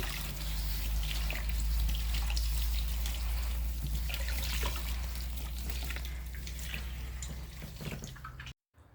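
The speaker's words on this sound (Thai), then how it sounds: "ได้เวลาล้างน้ำยาตัวสองในการยืดผมชาย" Water runs and splashes while the second straightening solution is rinsed out of a man's hair during a permanent straightening treatment. The trickle and spatter are steady and close with a low hum underneath, then cut off abruptly near the end.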